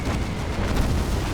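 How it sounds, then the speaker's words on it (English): A destroyer's magazine explodes in the naval combat game Battlestations Pacific Remastered with a loud, sustained booming roar that fills the moment with continuous heavy rumble and crackle. "Oh yes, we did get a magazine explosion there."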